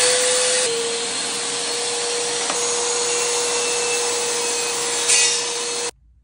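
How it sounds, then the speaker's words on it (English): A Ridgid wet/dry shop vacuum hooked to a Ridgid table saw runs loud and close with a steady whine and airy roar, then cuts off abruptly near the end. "and then just turn your vacuum on"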